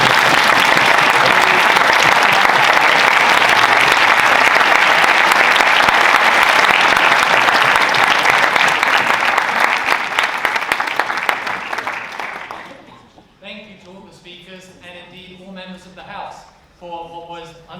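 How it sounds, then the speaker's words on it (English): Sustained loud applause from a debate audience at the close of a formal evening debate on whether mathematics is a human invention, a dense steady clapping wash that fades out after about twelve seconds as a voice begins speaking. "One more round of applause, please."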